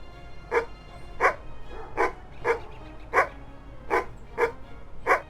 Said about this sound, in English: Did you just bark at me?